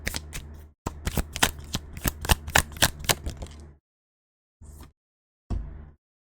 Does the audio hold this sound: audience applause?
no